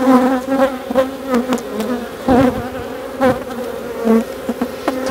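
A swarm of honeybees on the Mediterranean coast buzzes loudly and up close in a dense, continuous drone, with individual bees zipping past in brief rising and falling passes.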